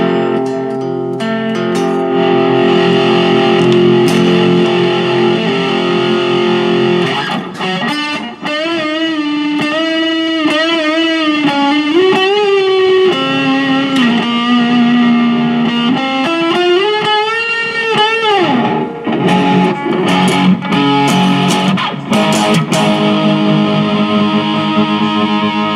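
Electric guitar played through a digital modelling amp with heavy distortion, holding sustained, gritty chords and bent notes at steady volume for the whole stretch.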